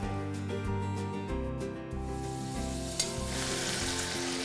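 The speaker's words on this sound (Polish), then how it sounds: "Naszą potrawkę z soczewicy zaczynamy od przysmażenia na małym ogniu chorizo." Chorizo fries over low heat in a pan, a steady close sizzle with soft crackles and occasional stirring scrapes, no voices.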